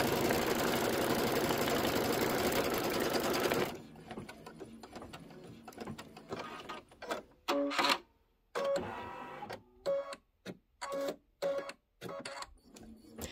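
A Kimberbell trapunto pineapple pouch is being quilted on an embroidery machine; after a steady whir, rapid rhythmic stitching bursts start and stop in short, regular runs, close and clear with no voices.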